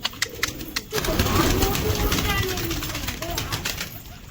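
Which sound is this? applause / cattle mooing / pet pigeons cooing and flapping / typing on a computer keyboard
pet pigeons cooing and flapping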